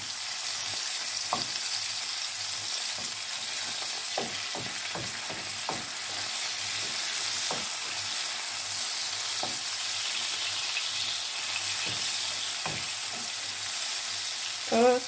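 Shrimps and zucchini flowers fry in olive oil in a pan, a steady bright sizzle throughout, broken by intermittent soft clicks and taps of a utensil stirring, with no talk.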